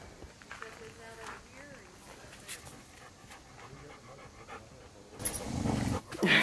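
Dogs panting at a campsite, quick rhythmic breaths close by, with a person talking and rustling and shuffling that grows louder near the end.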